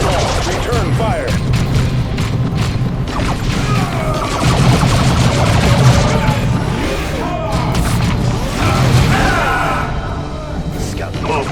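Battle in the video game Dawn of War 2, with continuous gunfire, booming explosions and crashing impacts throughout, mixed with shouted voices.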